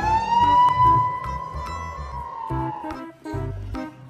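A toy ambulance siren wails in a steady electronic tone, with clicks and handling noise, and rumbling toy movement underneath.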